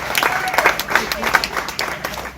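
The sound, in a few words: audience applause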